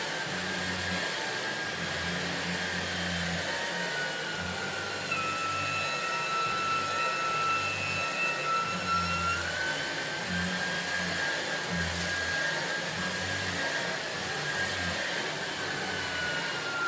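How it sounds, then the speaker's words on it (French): An EVO LUX MAX vacuum cleaner fitted with its optional carpet brush runs steadily on carpet, a continuous loud whine with a low motor hum and a slight shift in pitch midway, with no speech. "Je remets l'appareil en route et je laisse travailler la brosse."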